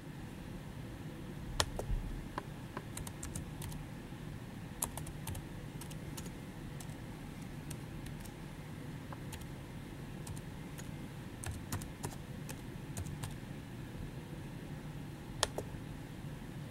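Steady keyboard typing of an email address and password on a computer keyboard, a continuous run of soft, fast clicks with a few sharper key taps, close and alone over faint room noise.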